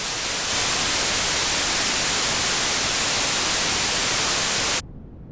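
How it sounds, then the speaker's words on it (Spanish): Unfiltered broadband noise from a Max/MSP patch, a steady loud hiss running alone for several seconds and then dropping abruptly to a much quieter, muffled residue near the end. "Aquí tenemos entonces otra vez el ruido sin efecto"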